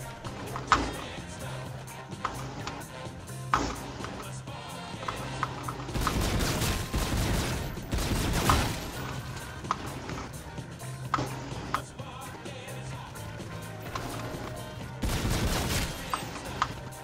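Video game gunfire comes in repeated bursts of rapid shots, loud and close, separated by short quieter gaps, with a few single sharp cracks between them.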